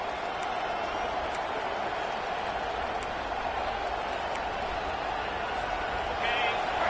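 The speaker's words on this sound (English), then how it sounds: "Here comes this home crowd as the defense tries to get off the field on third down" A home crowd roars in a Madden football game, a dense, steady wash of stadium noise with a commentator's voice running over it.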